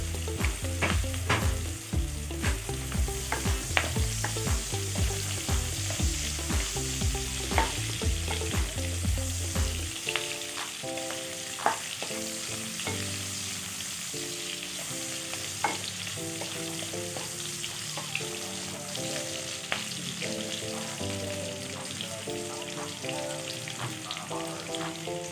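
Garlic and then onion sauté in a pan for creamy chicken pastel, a loud steady sizzle with rapid scraping stirs at first that gives way to a quieter hiss with occasional clinks.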